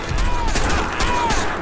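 Rapid bursts of gunfire from the video game Crysis 2, loud and close, with overlapping shots and reverberant echoes in a short, dense volley.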